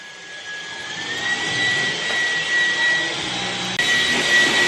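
A household vacuum cleaner runs steadily and loudly nearby with a high whine, its pitch shifting slightly and rising again near the end.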